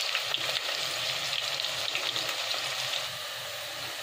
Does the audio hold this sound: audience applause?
no